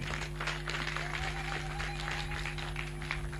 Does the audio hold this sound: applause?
yes